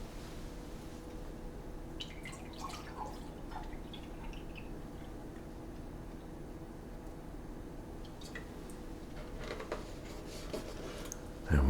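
Milk poured from a container into a vessel for a creamy gravy, a soft, steady liquid trickle with faint drips running throughout, close and quiet with no talking.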